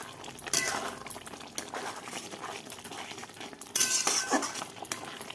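Masala spices stirred and fried in a pan in a village kitchen, with a soft sizzle under repeated metallic scrapes and clinks of a spoon against the pan, a couple of sharper louder strokes standing out.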